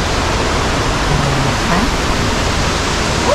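A waterfall in Bukidnon roars as a steady, loud, close rush of falling water, with a faint voice briefly murmuring underneath.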